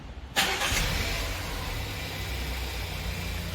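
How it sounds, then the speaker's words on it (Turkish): A car engine cranks and catches at once, then settles into a steady, loud idle close by with no voices. "Airbag lambası söndükten sonra start yapın."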